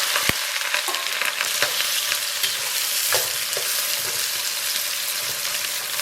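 Seasonings and chili sizzle and fry in hot oil in a wok while being stirred for a Sichuan-style braised intestine dish, a steady close crackle with scraping stirs and no talking.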